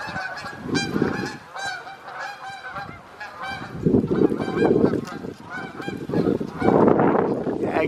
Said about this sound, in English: Yeah, geese, you're a little late for flying south.